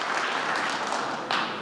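A crowd at a State of the Union political event keeps up steady, dense clapping, a continuous wash of applause at even loudness with a slight surge near the end and no speech.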